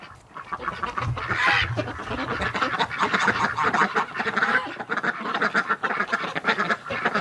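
Ducks and geese on a winter lake quack and honk continuously at close range, a dense overlapping chorus of calls with no voices.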